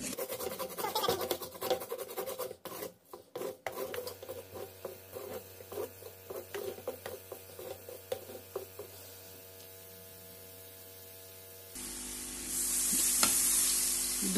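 A spoon stirs white sauce in a pan while it roasts, giving soft scraping strokes and a light sizzle, irregular and close at first, then a quieter stretch before a brighter hiss near the end.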